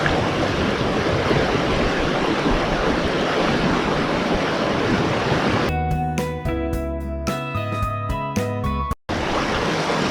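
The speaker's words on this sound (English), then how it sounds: "There is a beautiful stream that's going by." A mountain stream on the Mount Whitney trail, near a waterfall, rushes in a steady, loud wash of water for several seconds before a different, tonal sound cuts in.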